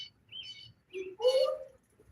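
Short, high bird chirps come in a few separate bursts, with a louder cluster of calls near the end against a quiet background.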